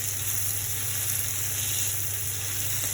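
Garlic and ginger paste frying in oil for a Bengali egg curry, a steady close sizzle with no pauses or talk.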